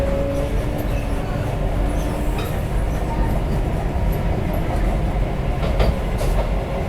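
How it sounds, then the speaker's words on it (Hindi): A steady rumbling train noise with a faint clatter, loud and continuous, as an Indian Vande Bharat Express train rolls along beside a station platform. "2 नंबर प्लेटफॉर्म पे यूजुअली आती है वंदे भारत।"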